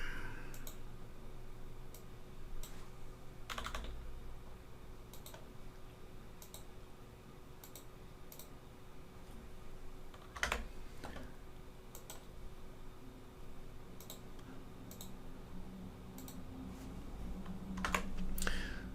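Computer keyboard typing runs through the whole stretch as a steady patter of close, crisp key clicks, with a few sharper strokes standing out as shortcut presses for selecting and pasting, set against a low constant room hum.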